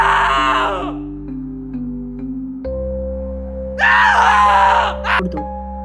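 A student screams in terror within a haunted hostel horror story, with long wailing cries over droning eerie music and a second loud scream later.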